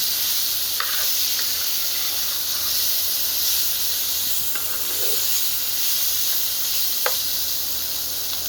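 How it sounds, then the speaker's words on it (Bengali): Gucchi fish fries on a solar-powered stove, giving a steady loud hissing sizzle throughout with a few faint pops and crackles scattered across it. "মাছটাকে ভেজে নেওয়া হচ্ছে। দেখুন মাছটা ভেজে নেওয়া হচ্ছে এখন।"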